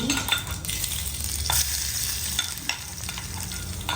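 Crushed garlic sizzles in hot oil with popping mustard seeds, a steady frying hiss with occasional stirring scrapes and small crackles, close by and without talk.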